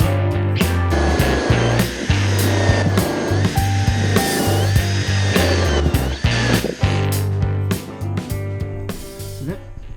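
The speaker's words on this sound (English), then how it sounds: "I've got to drill a hole in the floor" A power drill bores a hole through a shed floor, its motor running steadily and loudly for about ten seconds with slight changes in pitch as the bit works into the floor.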